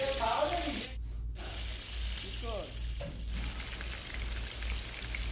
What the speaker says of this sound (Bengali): মুরগির মাংসগুলোকে ভালো করে ধুয়ে ভেজে নেবেন এভাবে।